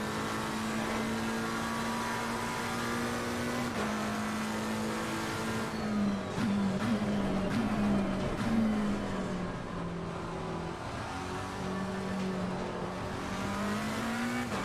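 GT race car engines roar through a drag race to the finish in Assetto Corsa Competizione. A loud, sustained engine note climbs and shifts pitch as the car accelerates, with brief wavering during gear changes and a steady high-revving drone.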